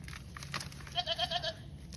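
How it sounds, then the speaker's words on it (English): A goat bleats once with a wavering, quavering cry over a quiet outdoor background. "Look at those goats."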